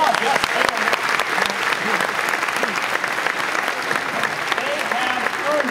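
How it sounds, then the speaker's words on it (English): Audience applause breaks out at a televised-style Jeopardy quiz event featuring the Watson computer, a dense steady clapping from a large crowd that holds at full level throughout, with no talking over it. "Give a round of applause."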